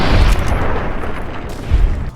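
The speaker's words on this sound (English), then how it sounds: "shooting people with the hunting rifle is its own reward" A hunting rifle fires in the shooter Dusk, two loud, close booms about a second and a half apart, each with a low thump and a short decaying tail, and no voices.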